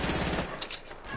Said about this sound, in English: They are using an AK. Not a heavy AR.